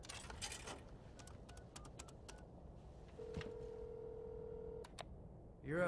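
A phone call dialed in the video game Devil May Cry 5: a quick run of short keypad beeps, then a single steady ringing tone held for over a second, all fairly quiet over a low background hum.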